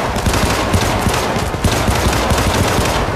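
Rapid sustained automatic turret gunfire in the PC video game Syndicate, dense continuous bursts of shots filling the whole stretch, loud and close with no pauses.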